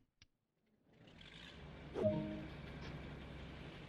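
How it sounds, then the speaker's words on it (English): In Train Sim World 2, the first of two diesel engines on a BR class 47 locomotive starts up: a click, then a low rumble building to a brief cranking burst that settles into a steady idle hum. "Now that the first engine is running, start the second one."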